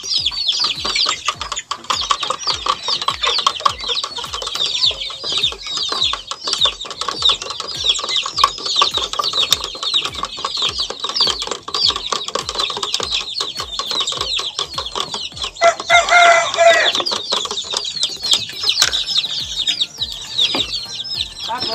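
Chickens and chicks clucking and cheeping while being fed on a farm, a continuous busy chorus of close peeping and clucks with soft pecking taps and a brief flurry of louder calls near the end.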